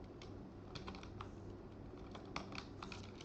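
Rapid, irregular clicks of a computer keyboard as a command is typed, light and close, a steady patter of keystrokes with a few sharper taps and no talking.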